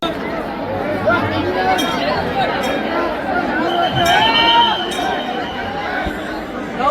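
A huge, dense crowd packs a Shiv temple in Shirpur on Mahashivratri, producing a steady roar of overlapping chatter with occasional clinks, loud and close throughout.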